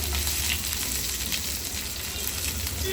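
Loud, continuous crackling and sizzling of curry leaves frying in hot oil, close up, with no talking.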